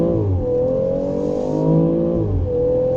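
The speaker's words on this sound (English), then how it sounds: "this new X3 with launch control will blast off" A 2018 BMW X3 M40i with an inline-six turbo launches hard, its engine note climbing through rising pitch sweeps with a brief dip at a gear change before pulling up again, close and loud.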